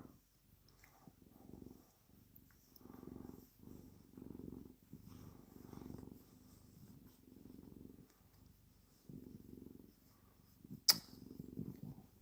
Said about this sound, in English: I'm gonna just let Max do a little purring here